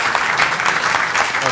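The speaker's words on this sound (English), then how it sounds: "Round of applause." An audience claps after a panel session at a conference, producing steady, dense applause throughout, with some faint voices mixed in.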